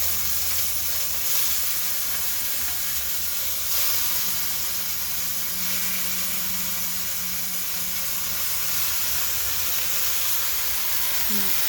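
Koi fish wrapped in gourd leaves sizzle and fry in a pan, a steady loud hiss of hot oil throughout with occasional soft clatter from placing pieces, and a voice talking quietly over it.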